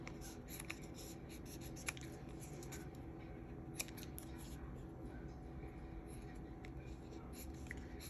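Scissors snipping craft foam while making earrings, a quiet run of small crisp cuts and clicks in steady succession, close by and faint, with occasional soft sounds in between.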